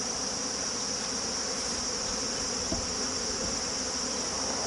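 Honey bees buzzing during an autumn mite check while being shaken in a container: a dense, steady, high swarm hum holds throughout, close and continuous, with a faint soft knock partway through.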